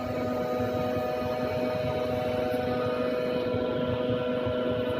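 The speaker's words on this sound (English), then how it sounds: "This is a compressor." A refrigeration compressor with an economizer sub-assembly runs at steady close range, a constant electrical hum with a low mechanical drone and faint higher whine, unbroken for the whole span with no voices.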